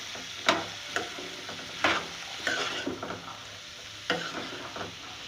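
Black chana chaat is mixed with ground red chili, producing a series of soft, close scraping and stirring strokes in an irregular rhythm, each stroke a brief rustling clatter, with no talking.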